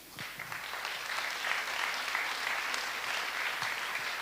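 Audience applause for entrepreneurs coming on stage at a pitch competition, a steady dense clapping from a crowd that holds evenly for several seconds without voices.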